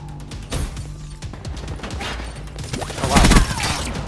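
Bursts of gunfire from a brand-new gun in a video game, rapid shots layered into a dense, mid-loud barrage with impacts and game effects, a voice briefly talking underneath.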